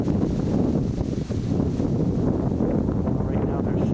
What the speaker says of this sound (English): The wind is really starting to pick up. You can hear it. It's blowing.